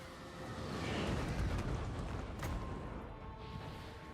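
Cannon fire in a strategy video game sounds as a broad, rumbling explosive roar that swells and fades, steady and fairly loud, with no talk over it.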